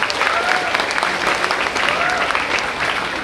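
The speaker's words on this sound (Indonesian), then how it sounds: "Tepuk tangannya" Loud, continuous applause from a crowd at a madrasa graduation ceremony in a pendopo hall, many hands clapping steadily with a faint voice rising briefly within it.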